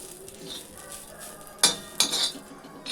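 Grated coconut roasting in a pan gives a faint background sizzle, followed by two or three sharp metallic scrapes and clinks of a spoon stirring against the pan.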